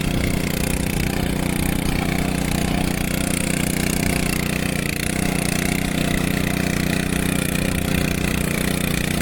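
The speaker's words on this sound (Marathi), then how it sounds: "पण ट्रॅक्टर जाणार भारी हा" A tractor ploughing a Konkan field in the first monsoon tillage produces a loud, steady engine drone that runs unbroken from start to finish without pause.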